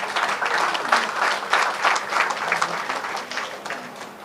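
An audience applauds warmly to welcome a speaker at a formal book launch event in India, producing steady, dense clapping that fills the hall throughout.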